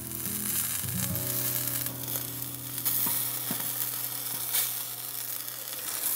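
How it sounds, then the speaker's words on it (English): Thick-cut lean bacon sizzling and crackling in a pan as the fat renders, a dense continuous fizz with scattered pops and a low steady hum beneath. "Let's fry these up. You can see that fat just rendering down right away."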